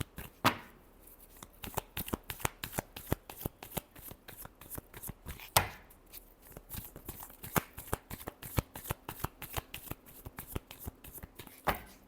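Tarot deck shuffled by hand at close range, a steady stream of quick papery flicks and snaps with occasional sharper riffles, quiet and unaccompanied by talk.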